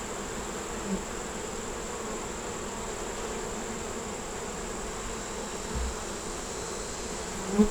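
A constant, close hum of many bees fills the air over an opened hive being inspected, with a couple of soft bumps along the way.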